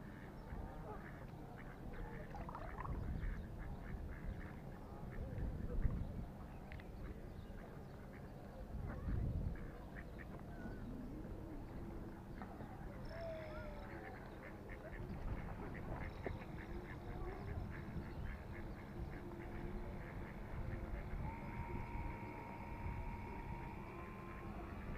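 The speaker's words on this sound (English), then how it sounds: "Disturb the birds" Ducks quack faintly at a distance around open water near a 3D-printed model boat. Scattered calls sit over steady low background noise with a few louder bumps.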